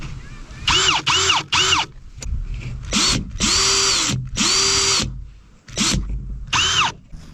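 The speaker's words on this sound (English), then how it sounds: "So I'm going to sink a couple extra screws in just to test each drill before I do the stress test." A cordless drill from Walmart, a Hyper Tough or Hart, drives screws in repeated loud whirring bursts that rise and fall in pitch as each screw sinks, with short pauses between runs.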